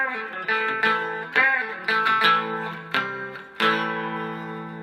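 Distorted electric guitar playing a riff, a run of bent single notes and power chords in short phrases, close and clean of any talking.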